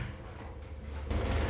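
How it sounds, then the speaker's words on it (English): A heavy-duty sliding bulkhead door in a 2025 Mercedes-Benz Sprinter 2500 170-inch van rolls along its track with a low rumble. It finishes in a close, solid thump, and the rumble continues after it. "We're gonna open up the door. Super easy to slide."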